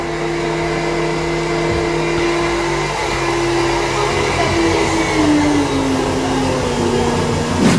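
A KitchenAid stand mixer runs loudly and close, a continuous motor whine and drone holding steady, with a tone that slowly shifts in pitch partway through.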